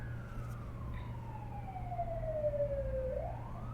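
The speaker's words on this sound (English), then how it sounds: "We are frequently interrupted by sirens" An ambulance's wailing siren sweeps downward as it passes in the distance, over a steady low hum; its pitch dips and starts to climb again.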